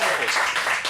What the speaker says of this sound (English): Round of applause for Steve Bennett for hosting.